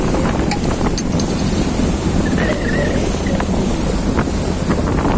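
Loud wind buffets the microphone aboard a Kadıköy–Karaköy ferry crossing the Sea of Marmara, with waves and churning water rushing beneath a steady roar and a few faint sounds scattered through.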